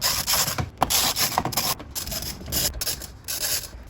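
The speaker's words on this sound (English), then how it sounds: "We're gonna have a socket here that we're gonna go ahead and use to remove those." Ratcheting socket wrench loosening 10mm bolts that hold the dash radio in a Toyota FJ Cruiser, close up, with repeated scraping, clicking turns across the whole stretch and no talk.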